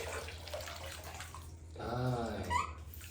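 Warm water in a bathtub splashes and trickles softly while a small child is bathed, and a short voice rises briefly over the water midway.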